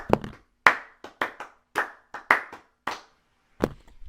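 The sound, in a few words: audience applause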